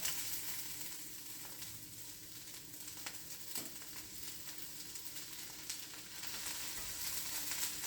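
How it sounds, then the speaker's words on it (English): Steamed vegetables sautéing in a pan, a soft, steady sizzle and crackle with occasional stirring clicks, quiet and close, no talking. "So I'm just sauteing them a bit"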